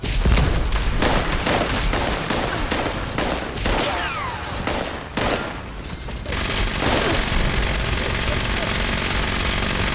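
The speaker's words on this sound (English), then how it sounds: "Who's shooting me?" Sustained gunfire aimed at the player in a video game, with rapid overlapping shots and bursts that continue steadily throughout under a dense, noisy background.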